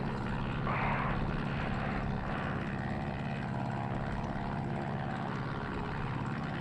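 Christen Eagle propeller aerobatic biplane at full power in the DCS flight simulator, a steady loud engine and propeller drone that holds constant throughout with no talking.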